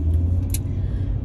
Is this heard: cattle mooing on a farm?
no